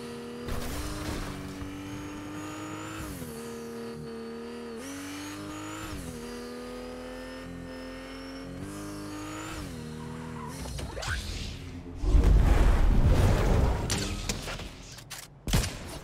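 A car in a video game revs hard with a steady whining engine tone that shifts pitch in stages, then slams into an opponent with a loud rough burst of crashing and scraping noise, close and alone without talk.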